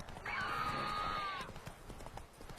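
Roach, the horse in The Witcher 3, lets out a sharp, clear whinny over faint hoofbeats, a single call lasting just over a second, fairly quiet.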